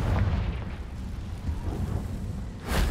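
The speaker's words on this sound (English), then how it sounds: "Confringo." A fire-burst explosion spell cast in the video game Hogwarts Legacy, a loud booming blast with sustained rumbling low end, followed by a sharp bright burst near the end, with no talking.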